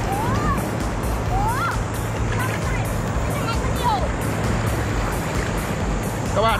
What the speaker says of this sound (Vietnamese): Đây mình quay con sóng này các bạn ơi.